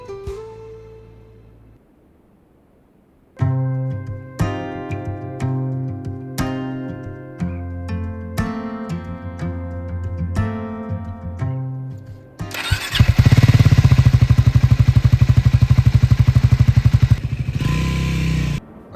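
A Triumph Scrambler 400x motorcycle cranks over and fires up, with music-like tonal blips before the engine settles into a loud, close, throbbing idle and rev that fills the final seconds.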